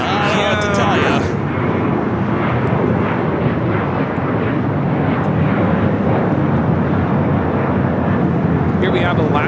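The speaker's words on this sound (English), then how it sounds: "Here we have Alaska Airlines 1315 taking off to Portland on the 737-900ER." A loud, continuous jet engine roar rises from an Alaska Airlines Boeing 737-900ER taking off from Los Angeles International Airport. It holds steady throughout the clip, and a person speaks briefly at the start over it.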